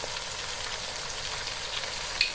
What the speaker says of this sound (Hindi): आलू और गोभी को भी डाल के हमने अच्छे से भून लिया